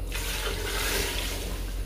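Water pours steadily and fairly loudly into a pressure cooker while chickpeas are being cooked, making a continuous rushing splash with no talking.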